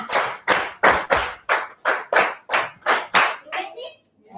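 A youth group performs a rhythmic appreciation clap, about ten sharp, loud unison claps in a steady beat, ending with a short pause and a faint trailing sound.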